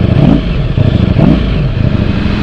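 2021 Ducati Streetfighter V4S with a V4 engine and Akrapovic exhaust revving loud and close, with rising and falling throttle blips over a rough, throaty drone.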